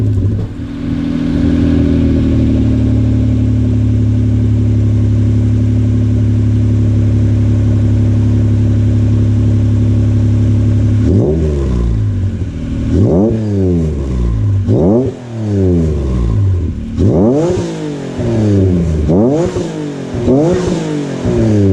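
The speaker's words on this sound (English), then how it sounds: "I'm going to do another startup for you guys." Acura NSX engine with a cheap aftermarket exhaust, first idling as a steady loud drone for about eleven seconds, then blipped through a rapid series of sharp, repeated revs that rise and fall close to the microphone.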